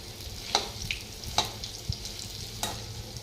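Bora fritters frying in oil give a steady, soft sizzle with a few sharp crackles and pops spaced through it, heard alone at close range.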